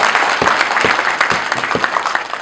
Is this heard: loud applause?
yes